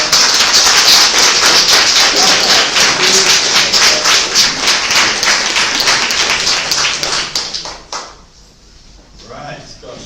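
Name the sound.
audience applause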